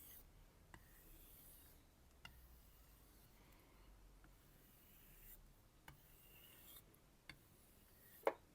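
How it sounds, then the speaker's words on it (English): A Global G-2 chef's knife drawn with light strokes along a waxed strop, producing faint, soft rubbing swishes with a few small taps, quiet and close with no talking. "A strop, I mean, using light strokes in the direction of the grind, which is straight, not going across"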